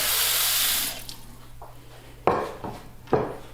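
Water runs into a cooking pot for carrot mash, pouring steadily for about a second, followed by two sharp clanks of the pot.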